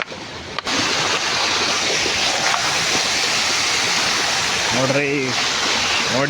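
Steady, loud rush of flowing, splashing water fills the whole clip, with a voice speaking briefly near the end.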